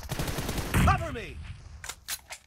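PUBG Mobile gunfire cracks out in rapid bursts, a loud volley of close shots and then a few scattered single shots as the shooting trails off.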